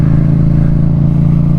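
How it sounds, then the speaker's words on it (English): A Yamaha MT-07 motorcycle fitted with a Yoshimura R77 full exhaust system idles or rides along with a loud, steady, deep engine drone, close and continuous with no talking. "I have a Yoshimura R77 full system exhaust, which, let me tell you, man, it's loud"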